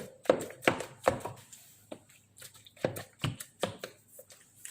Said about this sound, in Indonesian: Kemudian ikannya kita aduk